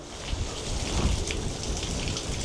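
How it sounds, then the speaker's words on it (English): Heavy rain pounds down in a steady roar, with a deep rumble swelling in the middle, on the Notsuke Peninsula in Japan. "the wind and the rain, especially the rain, is pretty heavy"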